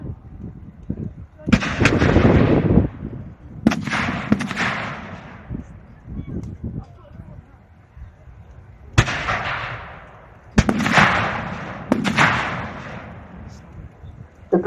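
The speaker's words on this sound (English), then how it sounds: "the heavy artillery fires across towards the farm" British 25-pounder field guns fire during a WW2 re-enactment, five loud booming blasts about 1.5 to 3 seconds apart, each with a long rumbling decay across the open field.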